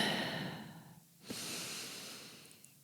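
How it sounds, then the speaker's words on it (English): A single deep breath is drawn in through the nose, a soft airy hiss fading out and then a fuller inhale swelling again, close and alone with no talking. "take a deep breath in"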